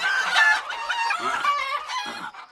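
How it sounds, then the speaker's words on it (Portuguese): Cartoon chickens cluck and squawk in a busy, close chorus of overlapping bird calls, loud and continuous with no speech. "um monte de galinha ficou piando no ouvido dele"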